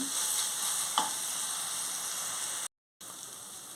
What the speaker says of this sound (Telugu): ఇప్పుడు అల్లం వెల్లుల్లి పేస్ట్ వేసుకుంటున్నాను కొంచెం బాగా వేగాలి